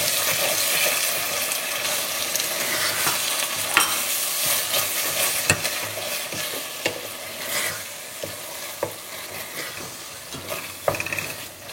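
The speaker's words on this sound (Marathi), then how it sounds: "आमी हो मिक्स करूया मसाला." Masala for Goan pork vindaloo sizzles and crackles in a pan as it is stirred, a steady loud frying hiss broken by sharp scraping strokes of the spoon throughout, with no talk.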